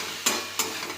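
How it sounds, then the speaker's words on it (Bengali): Greens frying in a pan with ground poppy seed paste, a soft steady sizzle broken by two quick stirring scrapes close by, with no talking. "পোস্তটা দিয়ে ভালো করে ভাজা ভাজা হয়ে গেলে নামিয়ে নেব"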